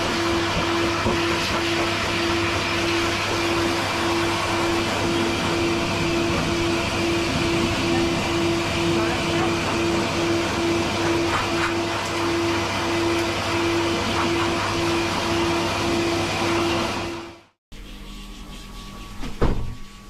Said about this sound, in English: it's just gonna be the blow dryer